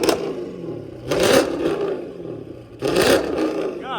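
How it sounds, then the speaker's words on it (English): Dodge Charger Scat Pack with a Corsa Extreme catback exhaust revs twice close by, each blip a loud rasping roar that rises and falls back to a rumbling idle. "I'm gonna have him rev it for me."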